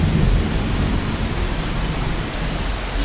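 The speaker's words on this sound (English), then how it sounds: "And like that, you have a thunderstorm. Lightning and all." Steady heavy rain and rolling thunder from a thunderstorm in the video game Miscreated fill the scene, a dense continuous wash of downpour with low rumbling underneath and no pauses.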